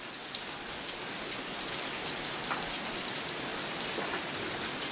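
Heavy rain pours steadily and loudly on surfaces close by, a dense continuous hiss with scattered drops standing out, no voices.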